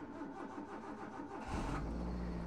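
A car engine cranks and turns over, settling into a low steady rumble after about a second and a half.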